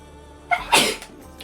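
A single sharp sneeze bursts out nearby, with a brief intake of breath just before it, during a tabletop Dungeons & Dragons session.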